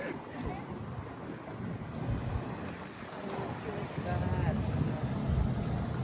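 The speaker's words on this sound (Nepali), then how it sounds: "हल्का हावा चलिरहेको छ" Light wind blows outdoors at La Ciotat near Marseille, a soft steady rushing and buffeting with a low rumble that swells slightly toward the end, heard alone.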